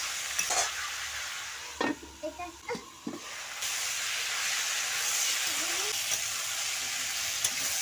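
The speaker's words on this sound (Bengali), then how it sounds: "অল্প একটু হলুদ দিলাম একটু নাড়াচাড়া করে ঢাকনা দিয়ে দেবো" Vegetables with salt and a little turmeric being stirred in a pan for a flat bean and potato curry, with a low sizzling hiss and several scraping stir strokes, fairly close, no talk.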